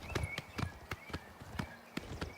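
A horse's hooves clip-clop on the ground in Oblivion Remastered, an even run of about ten sharp, close strikes in a steady walking rhythm over a quiet ambient background.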